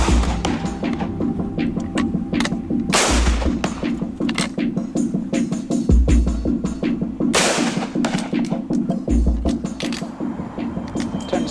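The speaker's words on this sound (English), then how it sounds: "With the Springfield, the cavalrymen have to reload after each shot." A Springfield cavalry rifle fired over and over, loud sharp reports repeating amid dense crackling gunfire and booming blasts that run continuously, with no clear speech.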